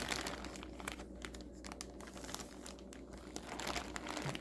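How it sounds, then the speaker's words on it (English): Plastic Ziploc bag crinkling as a wrapped ground beef and pork burrito is slipped inside, close and fairly soft, with repeated rustling bursts over a few seconds and no talking. "wrap up this, and I'm gonna put it in a Ziploc bag"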